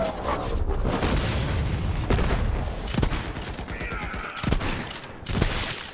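A wacky first-person shooter where a ball gets shot, with loud dense bursts of gunfire and booming impacts running through most of the stretch, punctuated by sharper blasts.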